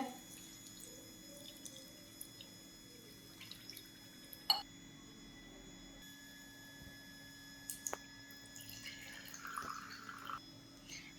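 Semolina and poha are rinsed with water in a kitchen, giving a faint trickle and soft splashes with occasional clinks, quiet and close.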